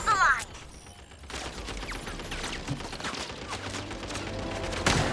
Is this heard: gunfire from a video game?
yes